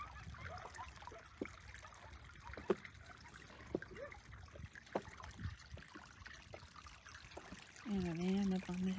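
At Spencer Hot Springs in Nevada, water trickles softly and faintly at night, with small irregular drips and splashes. A voice speaks quietly over it, and a louder tonal sound enters near the end.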